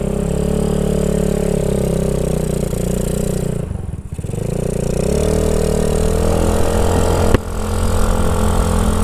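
A Honda Ruckus scooter engine running steadily while ridden around the block, a close, continuous mid-pitched hum that dips briefly as the throttle eases off, then picks back up.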